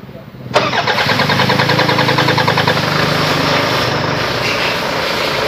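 A Toyota Vigo engine cranks briefly and catches with a sudden loud start, then settles into a steady, close idle that drones on evenly throughout.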